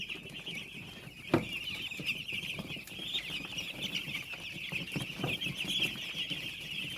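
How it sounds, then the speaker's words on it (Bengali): A flock of young chickens clucks and chirps continuously at moderate distance, with an occasional louder thump or wing movement nearby. "দেখেন আল্লাহর রহমতে মুরগিগুলো খুবই সুন্দর এবং ভালো আছে।"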